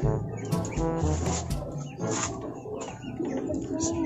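Pigeons coo in low, soft calls mixed with faint chirps and rustling nearby, with people talking over them.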